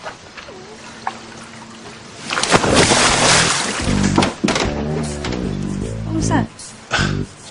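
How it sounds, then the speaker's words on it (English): A wave slaps against the side of a boat in a loud, broad splash, and water keeps rushing around the hull afterward. People talk over the water sound. "Probably just a wave splashing against the boat."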